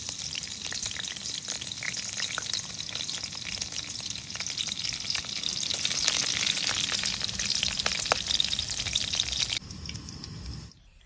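Green chillies sizzle and crackle in hot cooking oil in a pan for a village-style fish egg burji, a steady close frying hiss with occasional stirring, fading out at the very end.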